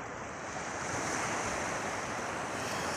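Steady ocean surf at the sea in Bukana washes in as a continuous broadband roar with some wind, close and fairly loud, with no talking.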